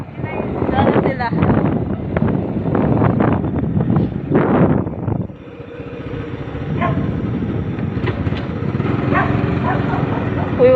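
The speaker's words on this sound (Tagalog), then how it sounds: "wag ka magpapahabol sa aso" Dog barks, several loud close yaps in a quick burst, heard at night over wind buffeting and a vehicle's running engine, while people talk excitedly nearby.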